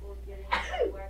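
A single sharp sneeze-like burst breaks the quiet of a sixth-grade classroom during a reading lesson, short and moderately close, with faint room murmur before and after.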